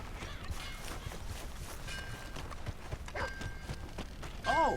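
Horse hooves clip-clop in the Red Dead Redemption 2 video game, a soft, steady walking rhythm under faint ambient game sounds, ending in a brief louder noise.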